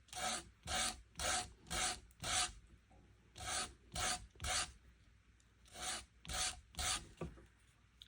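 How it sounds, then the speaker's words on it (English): Close, quiet sanding of a small fly lure head: quick rhythmic back-and-forth rasping strokes in three bursts, separated by short pauses. "There's going to be a lot of sanding involved with this"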